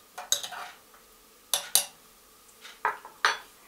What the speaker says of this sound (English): from time to time you need to stir your coffee